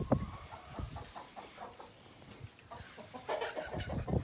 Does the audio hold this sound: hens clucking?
yes